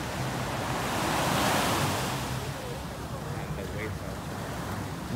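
Ocean surf at Puerto Vallarta breaks and washes up the shore in a loud, continuous roar with a swelling crest early on, buffeted by wind noise against the microphone.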